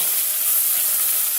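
Grated ginger and tomato hitting hot oil tempering in a pan, a bright, dense, continuous sizzle heard up close with no talking.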